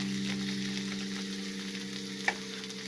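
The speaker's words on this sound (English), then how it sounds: "Onions are coming along nicely. Takes a while for onions to go translucent." Onions frying in a pan for a moose meat meal, cooking down toward translucent, giving a continuous close sizzle with a low steady hum beneath and one sharp clink of a utensil near the end; no talking.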